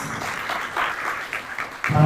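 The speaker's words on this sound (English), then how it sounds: "Very big round of applause." An audience bursts into applause at the opening of a trade and logistics business forum in Dubai, a short burst of clapping from a crowded hall that swells louder at the end.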